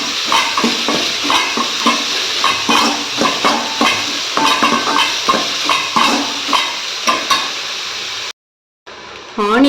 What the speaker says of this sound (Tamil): வெட்டி வச்ச ஆனியன் சேர்த்துக்கோங்க. சேர்த்துட்டு நல்லா கலந்து விடுங்க.